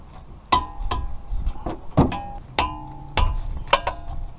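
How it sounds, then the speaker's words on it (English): Torque wrench tightening the 17 mm brake caliper mounting bolts on a Toyota, producing several sharp metallic clicks and ringing clinks, close and distinct, spaced irregularly over a few seconds. "now we're going to torque those big 17s down, the caliper mounting bolts"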